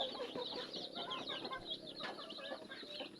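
A mother hen clucks among her chicks in a coop, with soft clucking and thin peeping chirps running steadily through the short stretch.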